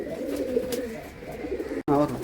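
Domestic pigeons coo in a steady low murmur, close and continuous, with a brief drop-out near the end before the cooing resumes.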